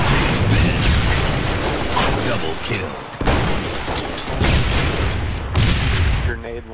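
Grenade blasts and clattering mechanical gunfire in a loud Halo Reach firefight, with booms landing near the middle and again toward the end, while players talk over the dense battle noise.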